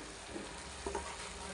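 Spices and salt sautéing in a pan for chicken rezala, a soft, faint, steady sizzle with a couple of brief stirring scrapes.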